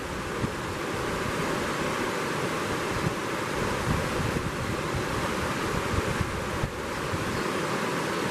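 A river flows past an autumn bank of deciduous trees, a loud, continuous broadband rush of water with steady churning and no voices.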